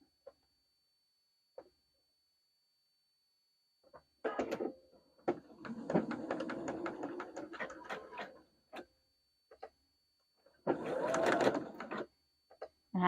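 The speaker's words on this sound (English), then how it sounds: "I'm just going to sew a line of stitches right here" A sewing machine runs in two short bursts of rapid stitching while a line is sewn on a girl's vintage-style puff-sleeve dress, close and clear, with faint clicks in the quiet gaps.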